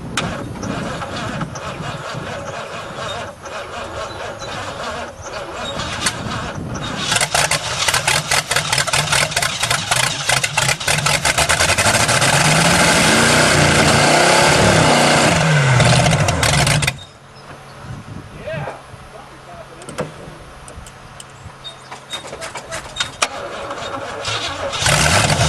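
Car engine cranking continuously with a stuck starter, a loud rhythmic whirring grind that builds and holds for many seconds, then cuts off abruptly to a quieter background hum. Close and harsh, with no talking.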